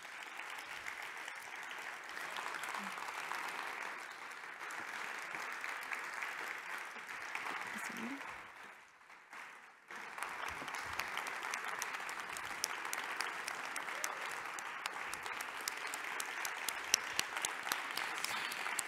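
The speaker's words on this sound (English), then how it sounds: "I would like to welcome all of our speakers on stage to give them one last Big round of applause" A large audience applauds the speakers gathered on stage at the end of an evening talks event. The clapping is steady and sustained, dips briefly midway, then swells back up with sharper individual claps.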